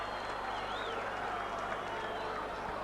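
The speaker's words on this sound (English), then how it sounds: "Big cheer goes up in the crowd" A crowd at a Wigan v St Helens rugby league Lancashire Cup match in 1985: a steady, distant roar of cheering and clapping that runs throughout with no clear breaks.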